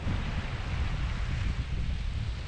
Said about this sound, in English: it's a little windy, so sorry if I'm yelling